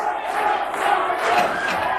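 Crowd at the 1988 World's Strongest Man competition cheering and shouting in encouragement, a swelling mass of voices with a few louder whoops rising above the roar.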